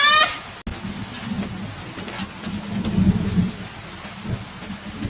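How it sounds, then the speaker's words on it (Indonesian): Heavy rain and rolling thunder fill a scene from a horror film, as a dense, steady downpour runs under deep rumbles that build toward the middle, preceded by a brief tonal sound at the start. "hujan pun turun"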